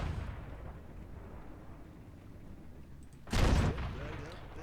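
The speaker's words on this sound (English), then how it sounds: "Penetrating shot right into his cupola." A tank cannon fires in World of Tanks, a single heavy boom with a brief rumbling tail near the end, set against a constant low engine drone and battle ambience.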